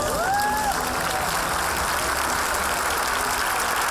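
A farewell crowd gives an ovation for an outgoing company president, with continuous applause forming a dense, even wash of clapping and no clear voices above it.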